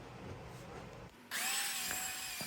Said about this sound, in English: I'm sanding off any of the glue that I couldn't get off with the scraper